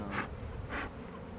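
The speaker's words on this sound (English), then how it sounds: "So all those bees that I just shook out of there will make their way back over here" Honeybees just shaken off a brood frame buzz around an outdoor hive, two soft swells of humming as bees fly close past, over a low steady background.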